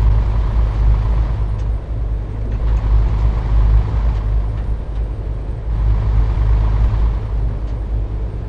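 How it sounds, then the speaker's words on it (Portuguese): A heavy truck engine in the Android game Truckers of Europe 3 runs as a loud, continuous deep rumble with slight swells in intensity and no voices over it. "Olha o som do caminhão, ó."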